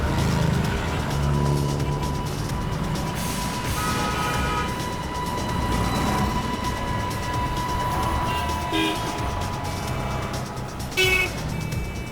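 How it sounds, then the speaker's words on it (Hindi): A white car approaches on a road, a continuous engine and traffic rumble building throughout, with a short horn toot near the end. "लगता है यही गाड़ी है सफेद वाली"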